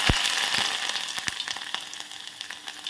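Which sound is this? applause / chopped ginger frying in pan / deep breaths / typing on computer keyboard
chopped ginger frying in pan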